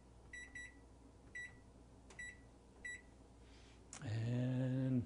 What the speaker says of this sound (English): and we'll set a cooking timer.